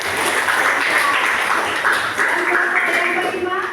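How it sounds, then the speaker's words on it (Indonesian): A classroom group claps after a student's reading, a short burst of brisk, fairly close clapping with voices chattering under it. "Tepuk tangan lagi."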